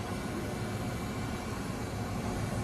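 Steady, loud broadband roar of an airplane engine running close by a waiting plane, a constant low rumble with no pauses or voices.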